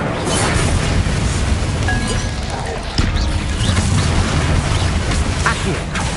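The Incendio fire spell cast in the Hogwarts Legacy video game, heard as a loud, dense rush of fiery booming and crackling that keeps going throughout, with a sharper burst near the middle.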